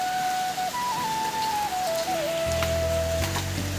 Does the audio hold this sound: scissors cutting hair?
no